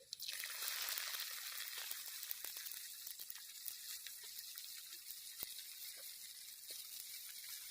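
Chopped onion frying in hot oil with five-spice and bay leaf, a steady close sizzle that is loudest at first and then settles into a continuous crackling hiss, with occasional soft pops and no talking.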